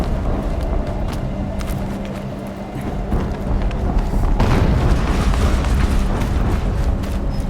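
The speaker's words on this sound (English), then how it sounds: "Explosion." A loud booming explosion in the Horizon Zero Dawn video game rumbles in the middle of continuous mechanical game ambience. It swells and holds heavy low energy for several seconds, with no talking.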